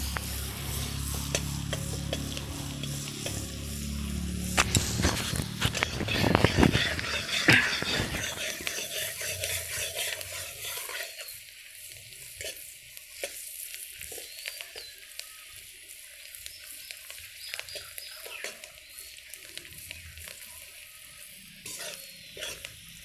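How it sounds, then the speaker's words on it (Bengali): Onion sizzling in oil with bay leaf as a tempering for a paneer butter masala curry, a loud hiss and stirring clatter early on, then a quieter, thinner frying crackle with occasional scrapes. "পেঁয়াজ এইগুলো ফোড়ন দেওয়া হচ্ছে আর কি তরকারিতে"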